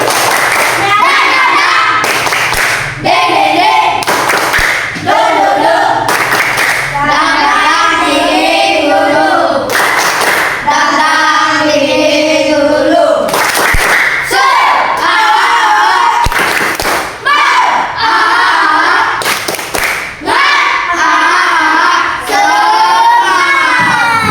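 A class of schoolchildren performs a rhythmic clapping chant with a teacher, loud sharp claps in patterned bursts alternating with shouted group chanting and children's voices, close and energetic throughout.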